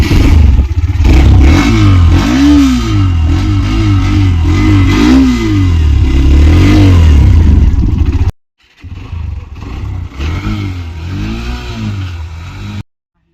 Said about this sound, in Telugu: మీరు ఒకసారి సైలెన్సర్ సౌండ్ అయితే వినండి